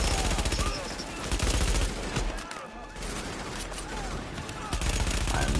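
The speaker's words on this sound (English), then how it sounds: "What is shooting at me?" Sustained automatic fire from an AK rifle in The Division video game, dense overlapping bursts of shots with continuous crackling gunfire throughout, and a person speaking under it.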